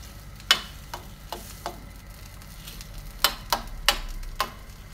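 Food frying in a pan while a Moroccan tajine with peas and artichokes is prepared. A low sizzle runs underneath, and a utensil taps the pan in sharp, irregular clicks, about eight in all.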